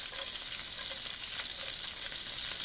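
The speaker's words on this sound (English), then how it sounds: "now I'll put the garlic in there" Garlic fries in a pan for mapo tofu, giving a soft, even sizzle with faint crackles that carries on steadily throughout.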